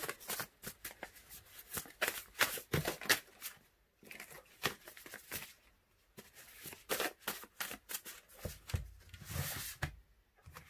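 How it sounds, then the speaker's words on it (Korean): Tarot cards shuffled and drawn by hand, with a dense run of crisp riffling and flicking card sounds, brief pauses, then more shuffling, close and fairly quiet, with little or no talk. "마지막으로 여러분들을 위한 좋은 카드를 뽑아보고요"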